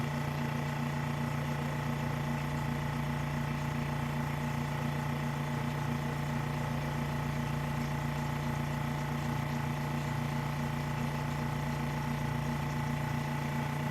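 Specialty Coating Systems P6712 spin coater turning at its slowest 100 RPM setting, a steady mechanical hum with a constant low drone and faint whir, unchanging and moderately quiet throughout with no voices.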